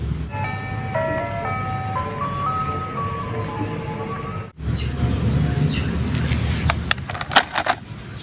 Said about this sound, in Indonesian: Wow, ini mobil es krim.